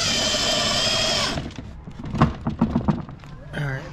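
A screwdriver or drill drives 1.5 inch screws into wood with a loud, steady whirring burst, followed by a series of dull thumps and clunks close by.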